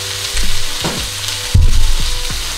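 Lean 93/7 ground beef hitting a hot pan for a jerk beef bowl, a loud steady sizzle that swells as the meat goes in, with a few low thumps and pan knocks, no talking.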